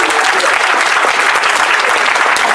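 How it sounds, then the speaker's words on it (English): Dense, steady applause from a live audience at a furry convention improv comedy show, a full crowd clapping loudly and continuously without a break. "a round of applause for all of them"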